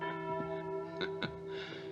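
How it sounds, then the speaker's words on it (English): An untied bell swings in the wind, giving a few sharp metallic clanks over a steady, sustained tone in a quiet western town at night. "Huh, must be the wind. Bell got untied."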